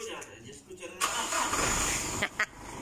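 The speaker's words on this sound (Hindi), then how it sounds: "अभी भी गाड़ी चालू है।" A car engine starts up and keeps running with a broad, steady rumble through the second half, after a quieter stretch of household noise; people talk nearby.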